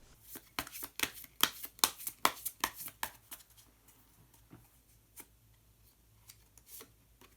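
Tarot cards rustle and snap as one hidden card is drawn and turned from the deck, a quick run of dry flicks and taps up close that thins out to a few scattered clicks.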